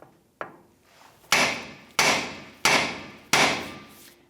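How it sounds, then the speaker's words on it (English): Hammer strikes on the steering knuckle of a 1992-1996 Ford F-150 during an upper ball joint job, one light tap then four loud, evenly spaced metallic bonks ringing close by with no talk. "I'm just going to bonk that knuckle right there, get that."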